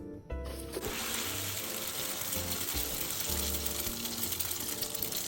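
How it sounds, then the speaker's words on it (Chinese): Beaten eggs mixed with crab sticks hit hot oil in a flat pan over medium-low heat: a sudden onset, then a close, steady hissing sizzle that holds for several seconds. "油热后倒入蛋液，中低火煎。"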